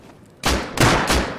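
Three loud, close gunshots ring out in quick succession during a winter fight in the survival game Rust, each a sharp blast with a short decay and no speech over them.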